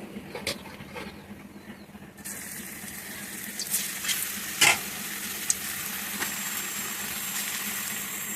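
Vegetables frying in a pan for a vegetarian dish, a steady close sizzle with occasional stirring scrapes and clatters, no talk.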